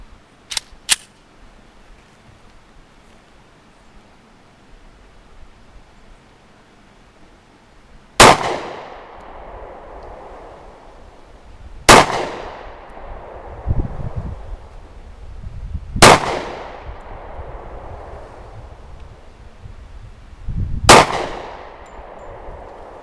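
A Smith & Wesson M&P Shield pistol in .45 ACP fires four loud, sharp shots about four seconds apart, each with a ringing decay. A couple of lighter clicks come first, and no voices are heard.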